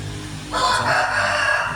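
A fighting rooster lets out a single loud, close crow that swells in midway and holds to the end, with no voices over it.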